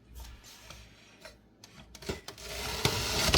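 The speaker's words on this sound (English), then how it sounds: "Beats the heck out of cutting them up by hand." Stainless steel shoestring fry cutter pushing potatoes through its blades, giving scraping, rasping crunches and clicks that build into a louder, denser cutting sound toward the end.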